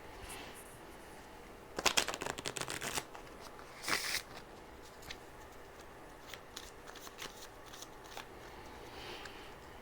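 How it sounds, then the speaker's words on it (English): A deck of cards being shuffled: a quick riffling burst, then a second shorter riffle, followed by faint card handling in a quiet room. "and shuffle that a little bit."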